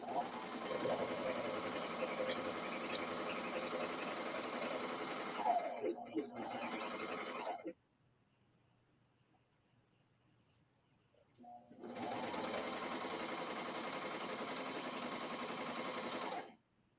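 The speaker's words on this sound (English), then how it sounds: "this machine just stitches so fast" A Brother Airflow serger runs fast, stitching outdoor home-decor fabric in two long, steady whirring bursts separated by several seconds of near silence.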